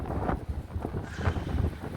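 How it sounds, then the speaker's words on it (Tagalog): Strong wind from a Middle East sandstorm at night buffets the microphone in a continuous low, gusty rumble with brief swells, loud and close. "Ayun, talagang malakas pa rin yung hangin."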